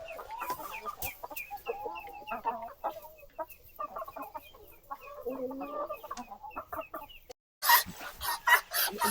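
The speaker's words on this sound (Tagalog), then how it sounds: "Papakawalan na yung lalaki na Muscovy duck." A male Muscovy duck being let go, with close, irregular clucking and fowl calls scattered throughout, ending in a few louder, sharp bursts.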